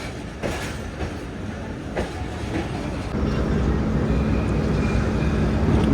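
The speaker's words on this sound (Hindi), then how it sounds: "ट्रेन निकल रही है कोट लखपत से" A train pulls out of Kot Lakhpat station in Lahore on the Allama Iqbal Express: a steady rumbling roar that swells and thickens partway through as the carriages gather speed, heard from on board with no talk.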